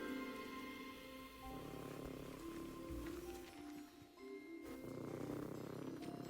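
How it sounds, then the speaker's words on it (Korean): A mooncalf, a small calf-like magical creature in the video game Hogwarts Legacy, purrs in a low, continuous rumble like a cat, running steadily beside soft game ambience. "그르릉 소리는 고양이랑 비슷한데?"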